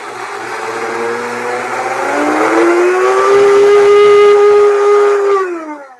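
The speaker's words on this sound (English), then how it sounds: "I'm just going to whiz it up in the blender" A blender whizzing up a rice topping, with the motor rising steadily in pitch as it spins up, running loud and close, then winding down at the end.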